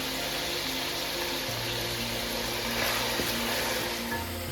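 Garlic-ginger paste fries in a karahi pan for chicken karahi, giving a steady, moderately loud sizzle with a constant hissing texture throughout.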